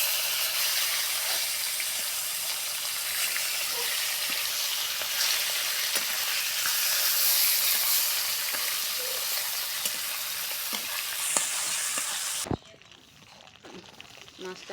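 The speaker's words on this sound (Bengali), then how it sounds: "বাকি যে কয়টা ছিল সেই কয়টা আমরা ভাজে নেব।" Tilapia fish fries in hot oil with a loud, continuous sizzle and hiss, close and steady, until the sizzling cuts off abruptly near the end.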